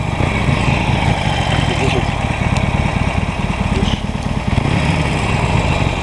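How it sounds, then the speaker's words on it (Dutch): A Harley-Davidson 883 motorcycle engine runs steadily up close with a dense, low, throbbing rumble, loud and continuous throughout. "Voor die Harley 883'tje, wat is het? Klinkt niet echt wat we gewend zijn."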